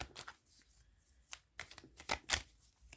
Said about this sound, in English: Let me shuffle until I get ahead of it.